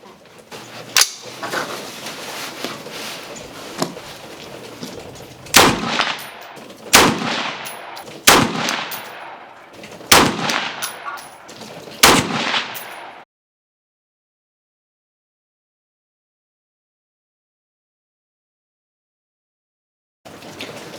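An AR-15 rifle firing Hornady Black 75 grain BTHP ammunition: six loud, sharp gunshots at irregular intervals of one to two seconds, each with a short echoing tail over faint background noise, followed by several seconds of silence and one last onset at the end.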